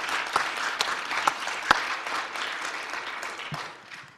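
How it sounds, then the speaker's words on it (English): A seated audience at a talk on ruminants gives a steady round of applause for the speakers, dense clapping with a few sharper individual claps standing out, fading gently after about four seconds. "Could we have a round of applause again for Amber and Dr."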